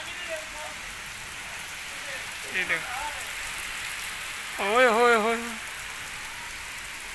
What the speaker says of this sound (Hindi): बहुत ज़्यादा बारिश आ गई है